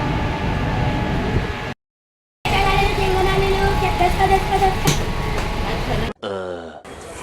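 Steady rumbling and rattling inside a moving train bound for Neral, with a constant broadband roar, one brief drop to silence, and a rougher shift near the end.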